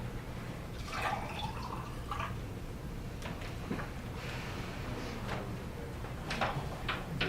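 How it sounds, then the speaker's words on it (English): Water is poured into a glass with a soft trickling and gurgling fill, fairly quiet against a room background, followed by faint clinks and small knocks. "I'm going to pour myself a little water here."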